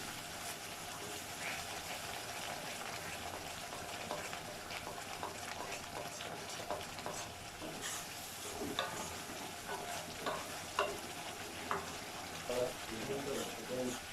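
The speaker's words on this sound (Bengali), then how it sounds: "এবার ভালো করে মিশিয়ে নেব। মিশিয়ে নিয়ে আর 1-2 মিনিট ফোটাবো" Raw tamarind chutney, sweet, sour and spicy, simmers in a pan on a gas stove as a spoon stirs it, giving a faint, steady bubbling sizzle with soft scraping clinks throughout.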